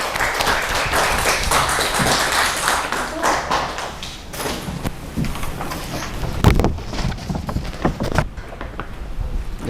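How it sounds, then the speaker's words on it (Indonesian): Classroom group applauding the first presenting group during a teaching performance test, a scattered burst of clapping with taps and thumps as students move, busy and close throughout. "Beri tepuk tangan untuk kelompok pertama."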